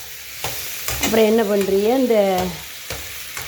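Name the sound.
small onions frying and being stirred in a pan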